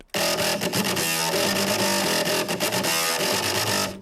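A heavily distorted synth bass growls loudly and continuously, gritty and buzzing, with rhythmic chopped accents over about four seconds.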